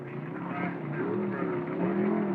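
A Dodge super stock drag car on a run at about 123 mph, a loud sustained engine roar with rising pitch from a distance, no voices.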